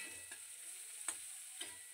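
Onions and potatoes fry in a pan, giving a quiet, steady sizzle broken by three brief scraping stirs.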